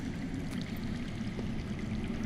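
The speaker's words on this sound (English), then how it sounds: "That's water. I hear water. From underground." Underground water flowing in a dark Game of Thrones video game scene, a steady low rushing murmur with faint trickling detail, continuous and distant, with no voices.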